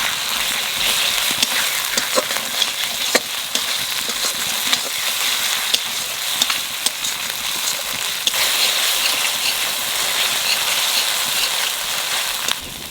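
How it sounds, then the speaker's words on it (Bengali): Ginger and garlic paste sizzling in hot oil in a pan, a dense continuous crackle and spatter with occasional stirring clicks, loud and close, with no talk. "আদা রসুনটা একটু বাজিয়ে নিচ্ছি"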